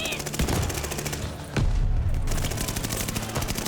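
Cooper Carbine firing in a video game, rapid bursts of close automatic shots with a brief lull in the middle, then renewed steady fire, moderately loud.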